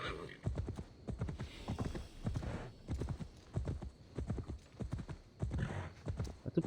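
Horse hooves clip-clopping in Assassin's Creed Valhalla, a steady run of close, distinct hoof beats in an even walking rhythm, with a faint whinny and game ambience behind.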